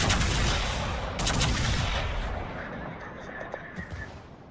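Ship guns firing in World of Warships during a naval battle: a loud opening volley, another burst of shots about a second later, then a rumbling low sea and engine din under scattered smaller reports.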